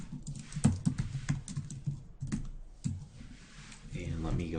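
Rapid clicking of keys on a computer keyboard, close by, with a person talking over the typing.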